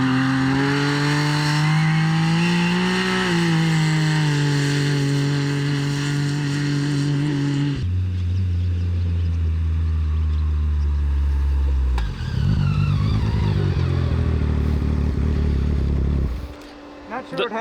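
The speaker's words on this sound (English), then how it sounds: "listen to the turbo already" A nitrous-powered Can-Am X3 turbo engine running close and loud, holding steady revs, then dropping and surging again as the throttle is tipped in, with a voice talking over it.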